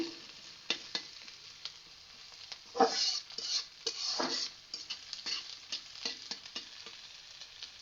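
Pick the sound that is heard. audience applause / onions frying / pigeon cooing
onions frying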